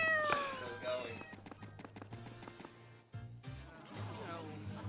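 A cat in the video game Tales of Xillia 2 gives a short, rising meow at the start, followed by game voices talking over soft background music.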